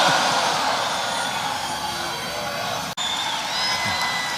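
An enthusiastic crowd at a Giuliani political rally produces a sustained, dense roar of cheering and noise that holds steady throughout, with a brief sharp dropout partway.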